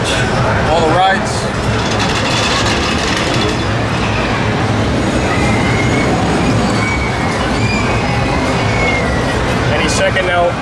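Amusement ride at Coney Island rattling along its track, a steady loud rumbling clatter with wheel squeal throughout and voices over it.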